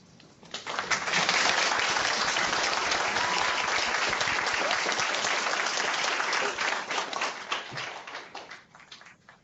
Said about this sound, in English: join me in giving a warm round of applause to Pro Football Hall of Famer, Mr. Carl Eller